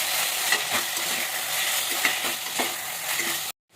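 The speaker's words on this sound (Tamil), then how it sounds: "இப்போ 3 மீடியம் சைஸ் தக்காளி, இதையும் நல்லா இப்போ வதக்கிக்கலாம்." Three medium tomatoes sauté in a hot pan for pressure-cooker chicken biryani, giving a steady, close sizzle with faint stirring scrapes throughout.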